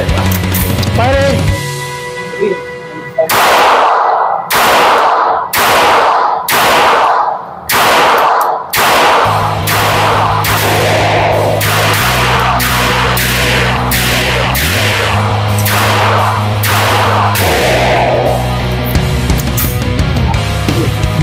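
A Taurus TX22 full-size pistol fires a rapid string of about a dozen loud, sharp shots close by, followed by ringing and a steady low hum as the shooting pauses.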